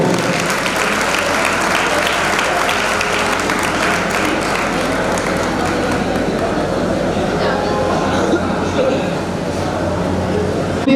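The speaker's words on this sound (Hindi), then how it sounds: "गंगवार परिवार को सम्मान में तालियां बजाओ ना" Gathered crowd applauding in honour of the Gangwar family at a Hindu religious ceremony in Ambikapuri Parmhans Nagar, loud continuous clapping filling the whole stretch with a faint voice beneath.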